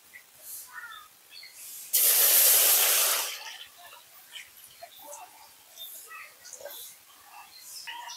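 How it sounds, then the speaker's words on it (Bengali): Water poured into a wok on a stove gives a loud, steady rushing hiss that lasts about a second, amid quieter kitchen sounds and faint chirps. "এবার আমি কড়াইতে দিয়ে দেবো কিছুটা জল"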